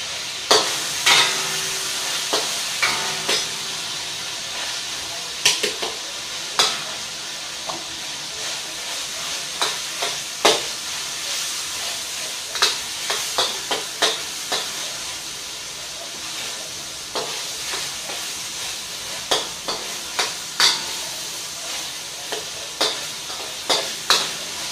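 Onion frying in a pan for shrimp and chicken fried rice, a constant background sizzle broken by frequent sharp clacks of a utensil stirring and scraping against the pan.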